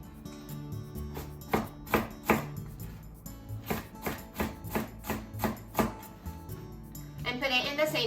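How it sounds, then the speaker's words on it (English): A knife slices chives and vegetables on a cutting board for a gyoza hot pot, producing a steady run of crisp, evenly spaced chops close by, followed by a rustling scrape at the end. "Turn it around and cut it this way so that it's about the same size with sliced chive."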